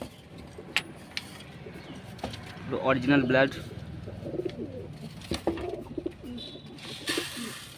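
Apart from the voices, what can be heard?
pigeons cooing in a loft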